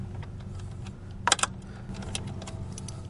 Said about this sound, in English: I'm going to start by loosening up the bolt here.